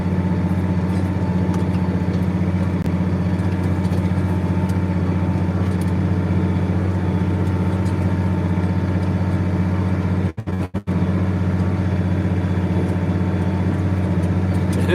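Tractor engine running steadily, heard from inside the cab as a constant low, loud hum with a faint whine above it, briefly interrupted near the end by a couple of sharp knocks.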